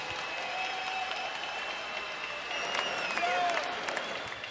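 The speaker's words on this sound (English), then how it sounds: "can we get a nice round of applause out here for both of these fighters?" Arena crowd applauding both boxers after a 12-round professional fight, a dense wash of clapping and crowd noise with a faint steady whistle-like tone, sustained throughout.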